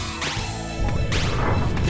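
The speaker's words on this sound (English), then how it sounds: "timing ends when that shatters now" An object shatters at the end of a Klonoa speedrun with two loud, sharp crashes, each one bright and splintering, under a steady game soundscape.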